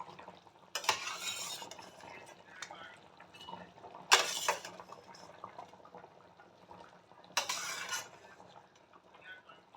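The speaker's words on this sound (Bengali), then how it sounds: "এবার আমি মাছগুলো সব দিয়ে দেবো।" Tilapia pieces go into a boiling potato curry with green chillies, giving three sharp bursts of splashing and clatter over a low, steady bubbling simmer, with no talking.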